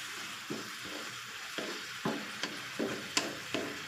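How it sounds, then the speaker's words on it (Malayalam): Coconut milk curry with eggplant simmering in a pan, giving a soft steady bubbling hiss broken by periodic stirring scrapes at roughly half-second to one-second intervals, close up and with no talking. "തേങ്ങ പാലൊഴിച്ചിട്ടുണ്ട് ഇതൊന്ന് ചെറുതായിട്ടൊന്ന് തിളച്ച് വരുന്നത് വരെ വെക്കുക"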